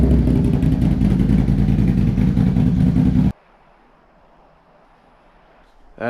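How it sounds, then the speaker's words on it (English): A Can-Am Renegade ATV with an RJWC APX dual exhaust idles with a loud, deep, pulsing rumble, then cuts off abruptly into near silence before a brief sound returns at the end. "That is by far the deepest exhaust I've ever heard on a Can-Am."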